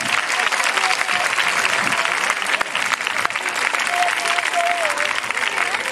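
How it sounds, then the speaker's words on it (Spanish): Outdoor crowd applauding vultures at a bird of prey flight show in Cabárceno Nature Park, loud sustained clapping throughout with a few bird whistles rising over it. "Fuerte aplauso para nuestros buitres."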